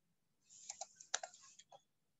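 Quick burst of typing on a computer keyboard, several soft clustered key clicks, faint and close, then silence.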